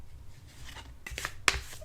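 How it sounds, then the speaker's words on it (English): Tarot cards handled and shuffled up close during a quiet ASMR card reading, a couple of soft rustling flicks and one sharp tap. "I'm going to do a little bit of shuffling"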